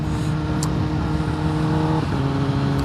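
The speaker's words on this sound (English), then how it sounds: "that's a smooth quick shift" A 2021 Kawasaki ZX-10R sport bike accelerates hard with a steady engine drone and a brief dip in pitch at a quick shift, heard close from the rider's position with wind noise.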